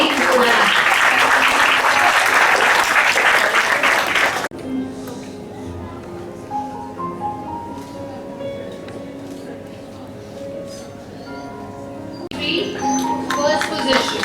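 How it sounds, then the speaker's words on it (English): Loud applause from a school crowd at an award ceremony, dense clapping for several seconds that cuts off abruptly, then quieter room sound with faint voices before the clapping resumes near the end. "Big clap."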